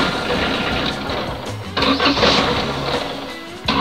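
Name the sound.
Opel Corsa car engine starting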